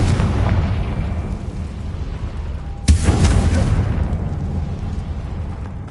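A fiery Confringo spell detonating in the Hogwarts Legacy game: a sudden loud blast cuts through a dense rumbling background mid-clip, then a noisy tail fades into the continuing roar.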